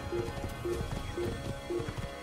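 A horse gallops in the video game Assassin's Creed, its hoofbeats landing in a steady, repeating rhythm about twice a second, close and moderately loud over a low game backdrop.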